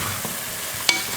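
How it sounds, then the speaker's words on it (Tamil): Country chicken masala being fried and stirred in a pan, a soft, steady sizzle with a single brief scrape of the spoon near the end, close by and fairly quiet, with no talking. "நல்லா வறுத்து எடுக்கணும்"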